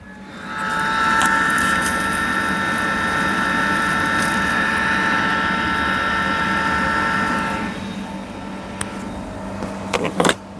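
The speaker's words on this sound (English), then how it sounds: "Now you can hear the noise. Blower already start." An LG dryer's blower runs in test mode, a steady close whirring hum with a tonal whine that holds for about seven seconds and then stops, followed by a few clicks and knocks.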